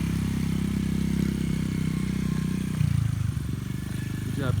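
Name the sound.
Honda XR50 pit bike riding on street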